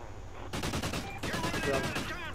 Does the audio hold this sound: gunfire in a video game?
yes